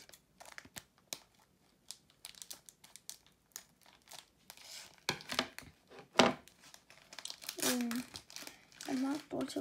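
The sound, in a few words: tearing open a Pokemon card pack wrapper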